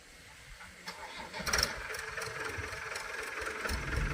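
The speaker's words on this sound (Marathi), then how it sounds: "निघाला बघा ट्रॅक्टर" A tractor loaded with sugarcane starts up, its engine catching and then settling into a steady running rumble, fairly quiet, with some voices nearby.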